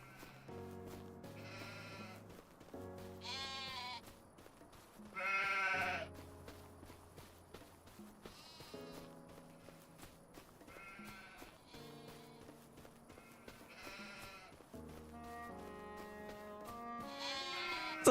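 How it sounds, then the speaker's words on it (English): A lot of sheep bleat on a farm, with repeated wavering calls overlapping from several animals at moderate distance, some near and louder, others fainter. "It's a lot of sheep."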